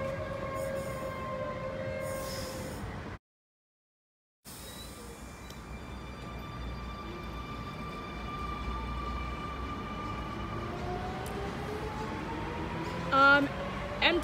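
Sydney Trains M-set commuter train pulling away from platform 2 at Warwick Farm, a steady broad rail rumble with tonal motor whine rising in pitch as it accelerates, a short dropout early on and a brief bright squeal near the end.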